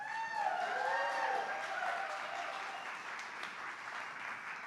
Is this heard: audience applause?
yes